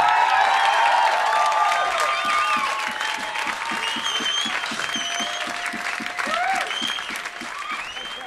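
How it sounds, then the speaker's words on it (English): Sustained applause from a crowd, steady clapping throughout with some cheering and whistles over music. "Give him a round of applause"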